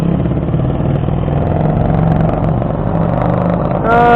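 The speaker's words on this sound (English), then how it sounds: "Rev up through it in first gear." A Kawasaki KSR 110 minibike revs hard in first gear, a loud close engine whine that climbs steadily in pitch, then jumps higher near the end.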